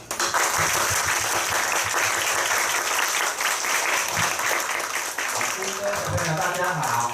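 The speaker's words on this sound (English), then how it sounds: "So I want you guys to clap your hands really loud for Mr." An audience at a potato workshop applauds loudly and continuously throughout, dense clapping with voices mixed in underneath.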